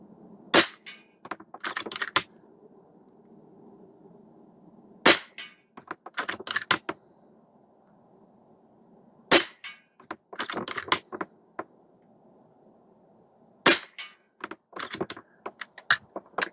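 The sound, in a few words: Air Venturi Avenge-X .22 caliber airgun shots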